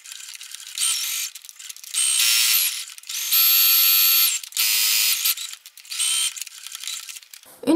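A sewing machine runs a backstitch at the start and end of a seam while sewing a pouch, giving several short, close mechanical whirring bursts separated by brief pauses.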